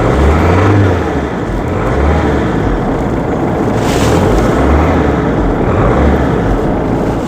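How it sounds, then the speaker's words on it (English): A Land Rover Freelander engine idles unevenly with a bit of a smoking problem, giving a steady close low rumble that wavers and lurches in a loose rhythm, with no talking over it. "it has an uneven idle, and that's because it does have a bit of a smoky issue"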